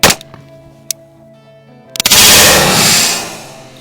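A Winchester hollow point round is fired into a ham: a sharp loud gunshot at the start, a smaller crack, then another blast followed by a long roaring rush of noise that fades out.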